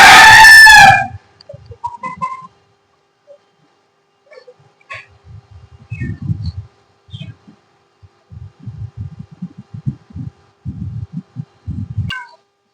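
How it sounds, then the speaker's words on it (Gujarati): Roosters crowing in a zoo enclosure at Ahimsa Dham, Bhachau: one loud, close crow opens the scene, followed by scattered softer clucks and fowl calls. "જોઈ શકો છો મિત્રો આમાં કુકડાઓ છે પૂરેલા"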